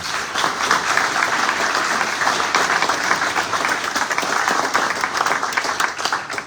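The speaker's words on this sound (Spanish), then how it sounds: "También un aplauso para ellos, por favor." Audience at an art exhibition opening breaks into sustained applause, a full even roar of many hands clapping that carries on for several seconds before easing slightly at the end.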